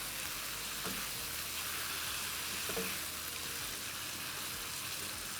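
Boneless chicken sizzles and fries with masala in a pan, a steady bright hiss with a couple of soft stirring scrapes, close and constant, no talking.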